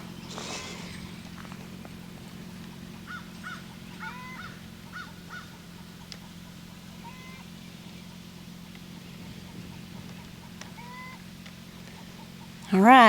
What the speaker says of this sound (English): I hear another chicken.